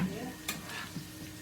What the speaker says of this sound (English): Now it's frying good.